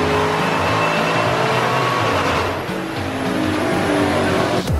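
A modified sixth-generation Camaro roars loudly and steadily on a chassis dyno, its engine note holding at high revs for several seconds with a brief dip midway before surging again, then cutting off abruptly at the end.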